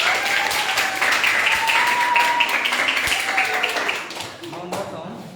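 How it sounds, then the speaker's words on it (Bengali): A classroom group of children claps together in a sustained burst of applause after a correct answer, the patter fading out toward the end with a voice speaking underneath. "হাততালি দাও।"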